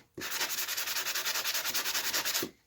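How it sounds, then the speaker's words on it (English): Brisk back-and-forth strokes of a small sanding block on an Oakleaf tack hammer head, about a dozen rapid rubs in an even rhythm, close and clear, starting and stopping abruptly with no talking. "you can use one of these little sanding blocks"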